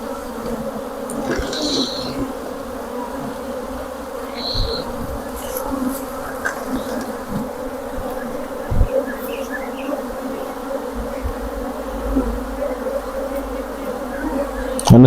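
Honey bees buzz continuously around beehives, a dense steady drone close to the microphone with individual insects passing by over a constant hum.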